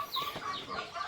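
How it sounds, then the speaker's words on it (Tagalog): Chickens cluck on a small farm, a few quick, close clucks and rising calls in a short burst with no voices over them. "Ayan, ating mga manok."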